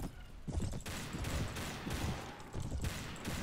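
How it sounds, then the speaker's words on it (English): 1860s-style firearms crackle in a chaotic shootout in Mount and Blade Warband, overlapping shots popping in uneven bursts at moderate distance, fairly quiet overall with steady background bustle. "Bloody shootout."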